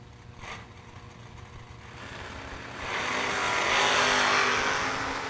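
A Camaro and a Vega launch side by side down a drag strip, one with a wheel stand; a brief crack of engine noise gives way to a swelling, loud roar that holds to the end.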